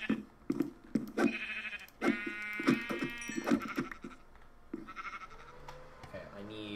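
Several sheep bleat over and over in a video game, close by, over a steady patter of soft thumps and shuffling noises.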